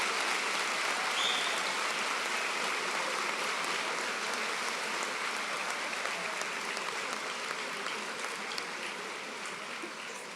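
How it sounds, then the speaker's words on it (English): Sustained applause for graduates at a college graduation ceremony in a hall, a steady, even roar of many hands clapping that carries on for several seconds and eases slightly near the end. "Big round of applause for all our PME graduates today"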